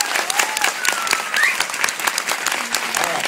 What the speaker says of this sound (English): I think this team and Johnny Depp deserve a round of applause.